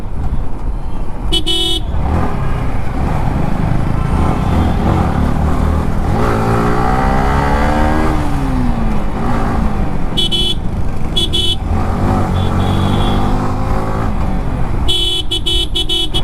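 Yamaha R15 V4 motorcycle ridden along Marine Drive on a summer evening, its engine steadily loud with rising and falling revs amid surrounding traffic, with a few car horn toots breaking through.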